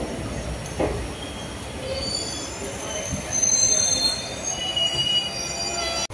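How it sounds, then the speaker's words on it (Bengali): A night train pulls into Bolpur Shantiniketan station with a loud, continuous rumble and high metallic wheel squeal that persists throughout, heard from on board, with no talk. "আমাদের ট্রেন 50 মিনিট লেট করে ঢুকলো বোলপুর শান্তিনিকেতন স্টেশনে।"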